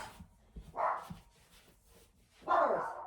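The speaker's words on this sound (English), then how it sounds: "Stop that barking." A few sharp dog barks ring out one after another in a quiet room, moderately close, with short pauses between them.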